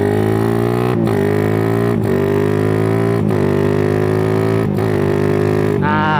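Motorcycle engine held at steady high revs, dropping with sharp pitch dips at regular intervals as gears are changed down without the clutch, loud and close, ending on a rising blip of throttle.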